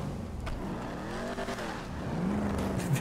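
A car in GTA 5 role-play pops a wheelie, its engine roaring steadily under squealing tires, with a rising, wavering whine near the end and no talk.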